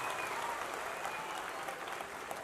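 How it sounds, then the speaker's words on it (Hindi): An audience at a school's annual day function applauding a teacher, a dense, steady wash of clapping from a large crowd that holds throughout. "एक जोरदार तालियां अजय सर के लिए।"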